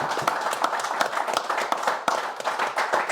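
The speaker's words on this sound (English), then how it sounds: "Can we have a round of applause," A small audience welcomes a Shrewsbury Town centre forward with a round of applause, close irregular hand claps rattling steadily throughout with no talking over them.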